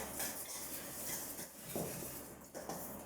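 Flour and baking powder are mixed in a bowl for cheese scones. Quiet, close scraping and light clinks of a utensil against the bowl repeat in a loose rhythm, with no talking.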